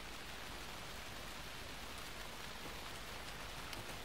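Steady, faint night rain falls in Alan Wake 2 as an even hiss with no pauses, and nothing else is heard over it.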